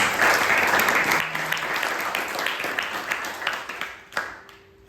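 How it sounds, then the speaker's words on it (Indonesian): A church congregation applauds for Jesus, a dense wash of clapping that starts loud and gradually thins and fades, with a few scattered claps standing out near the end. "Tepuk tangan untuk Tuhan Yesus"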